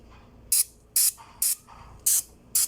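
Treatment sprayed onto a flood-damaged Ford EcoSport car: five short, sharp hissing spray bursts at a fairly even pace, close and loud, with no talking.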